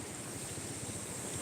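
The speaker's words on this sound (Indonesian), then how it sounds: "Jadi sebenarnya saya suka sekali pantai." Waves and wind roll across Jumiang beach, a steady, loud roaring wash with gusting wind buffeting the microphone and no voices heard.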